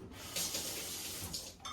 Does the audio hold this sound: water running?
yes